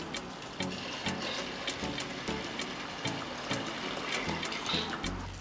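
Hot water, about one and a half litres, pours steadily into a clay pot holding washed lentils, a continuous watery rush with a faint rhythmic pulsing, close and fairly loud, with no voices.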